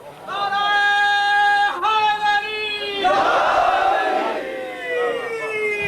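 A crowd at a Shia majlis marking Chehlum in Jhelum chants a religious slogan: sustained, loud, tonal calls from many voices, then a swelling roar of the gathering joining in before the chant trails off.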